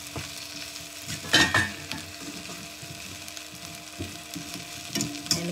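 A spoon stirs okra and onion curry in a frying pan, giving scraping strokes and a couple of louder knocks over a low, steady sizzle, with no talking.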